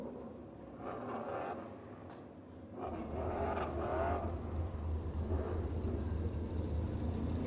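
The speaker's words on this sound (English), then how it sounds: "Here come the cars out onto the track." EuroNASCAR race cars pulling out onto the track for a qualifying session at the 2023 finals, a low engine rumble and whir that grows louder and fuller as the cars approach, with no talk over it.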